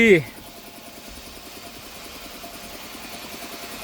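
A Ford farm tractor engine running steadily nearby, a continuous low pulsing chug that carries on under a brief voice at the start.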